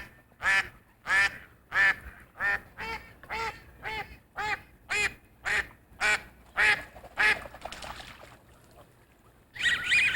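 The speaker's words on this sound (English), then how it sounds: "it's a good time to get into what these ducks say and how that language sounds." A duck gives a loud, close run of about a dozen evenly spaced quacks in a steady rhythm. A short pause follows, then one more quack at the very end.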